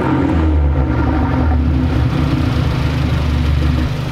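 A turbocharged car engine with a muffler delete runs loud and steady close by, a deep low rumble holding across the whole stretch with little rise in pitch.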